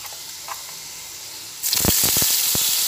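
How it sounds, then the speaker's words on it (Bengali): Chopped garlic hits hot oil with whole garam masala and sizzles up loudly after a quiet start, a steady hiss with sharp crackling pops close by. "রসুনটা ভাজা হচ্ছে"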